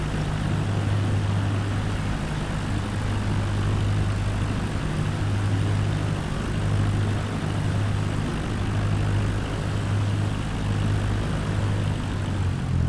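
A propeller aircraft engine drones steadily and loudly while taxiing in Microsoft Flight Simulator 2020 around San Francisco Bay. The engine hum stays constant and close throughout, with no speech.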